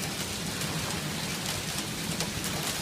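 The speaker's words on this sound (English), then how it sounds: "Look at that big hailstorm." A heavy hailstorm with hail and rain pelting down outdoors, a dense, steady roar of impacts with scattered sharper hits throughout, loud and continuous with no voices.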